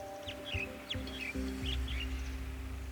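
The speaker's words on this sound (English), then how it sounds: "I think a red-breasted parakeet just flew into this tree." A red-breasted parakeet calls from a tree. It gives short, high chirps, repeated several times, faint against a steady low droning hum.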